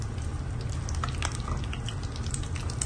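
Bay leaf, cloves, black cardamom and stone flower fry in hot oil with a soft, continuous sizzle. Faint crackles and pops rise above the steady hiss.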